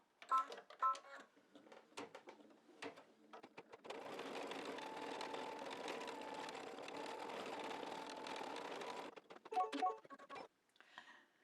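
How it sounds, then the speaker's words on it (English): An embroidery machine stitching a mug rug handle in black thread runs in a steady, fast mechanical whir for several seconds, framed by scattered clicks and taps before and after. "I've loaded the machine with black thread, and it's going to do the handle"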